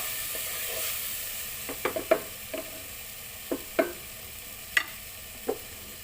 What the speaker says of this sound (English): saute this for 2 to 3 minutes